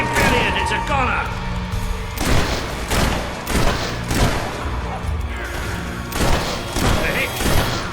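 Shots ring out in a Fable 3 battle as a steady series of heavy booming thuds, loud and close, mixed with game voices and background music.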